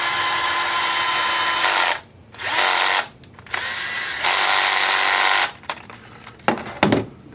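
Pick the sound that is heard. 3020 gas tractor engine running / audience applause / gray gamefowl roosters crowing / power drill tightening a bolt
power drill tightening a bolt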